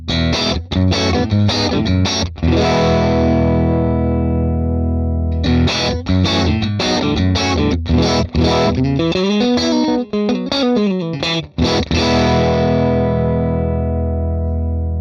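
Electric guitar played through a Valeton GP-200 amp model, loud and close, with strummed chords and quick picked phrases that ring out and pause, plus a brief melodic run in the middle; no voices.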